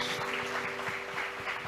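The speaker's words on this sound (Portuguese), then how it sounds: "Aplauda Jesus." A church congregation claps during a Sunday evening service, a soft, steady patter of hands under sustained musical tones, faint and somewhat distant.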